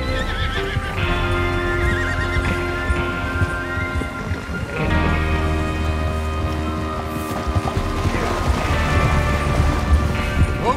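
Horses whinny and snort loudly over clopping hooves in Red Dead Redemption 2, layered with a sustained musical drone, a busy, close mounted-group scene with no talk.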